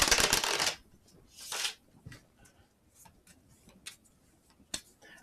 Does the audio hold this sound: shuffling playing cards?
yes